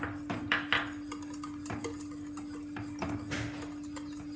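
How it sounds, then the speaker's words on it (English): A whisk beats custard with sugar in a bowl until lump free, making rapid metallic clinks and scraping rattles against the sides, close and steady with a faint hum behind, no talking. "again whisk it. Whisk it well"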